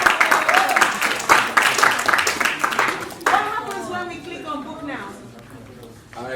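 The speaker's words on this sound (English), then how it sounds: "Please give him another round of applause" An audience at a training event claps, a dense burst of applause that fades after a few seconds, with a person speaking over and after it.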